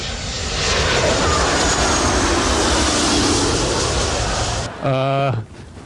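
A military drone flies overhead with a loud, steady engine roar that fills most of the stretch, then breaks off abruptly as a brief voice cuts in near the end.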